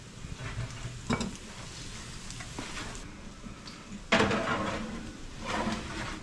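Sliced onions sizzling in a pan for Philly cheesesteak, a steady moderate sizzle with intermittent stirring scrapes and a louder burst of frying partway through, no talk.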